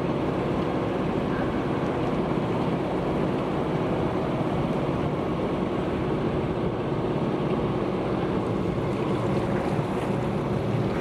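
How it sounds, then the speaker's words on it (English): A steady engine rumble from a passing fishing boat, heard from a sailing yacht, mixes with wind noise and wave wash, constant and fairly loud for the whole stretch, with no voices. "Fishing boat behind us."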